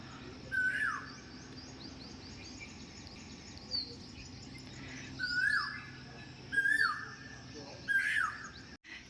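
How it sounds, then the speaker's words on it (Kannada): Birds chirp in the early morning near a home, with short whistled calls repeating every second or two over a steady hum of insects in the background. "ಪಕ್ಷಿಗಳ ಚಿಲಿಪಿಲಿ ಸೌಂಡನ್ನು ಸಹ ನೀವು ನೋಡ್ಬೋದು."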